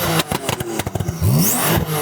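A tuned Porsche 911 Carrera engine revs hard and repeatedly bounces off its soft limiter, producing a rapid stuttering burble with a rising whine, loud and close.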